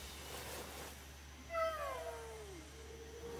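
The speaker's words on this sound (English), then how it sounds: "Oh, he's a cat." A cartoon cat in a video game lets out a single drawn-out meow that slides downward, standing alone over a low steady hum.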